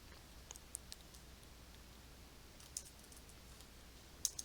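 Quiet, sparse keystrokes on a computer keyboard tap in a faint, irregular run, a few sharper clicks standing out against a hushed room.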